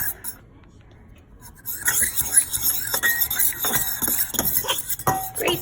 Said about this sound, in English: Now whisk that all together.